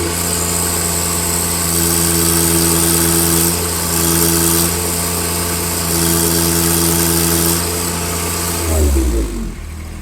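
A John Deere 2025R compact tractor engine runs steadily at idle near 2100 rpm, a loud, close, even mechanical drone that drops away near the end, with no talking.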